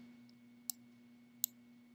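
Two crisp, quiet clicks of a computer mouse, about three quarters of a second apart, over a faint steady electrical hum.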